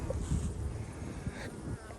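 Honey bees buzz around an apiary hive fitted with bee escapes, a dense, continuous close-up drone with occasional louder passes near the microphone and no voices.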